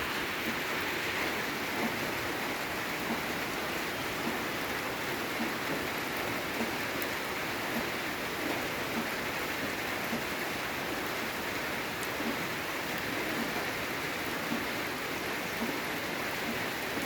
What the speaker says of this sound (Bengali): আজকে তো আমাদের এখানে খুব জোরে বৃষ্টি হচ্ছে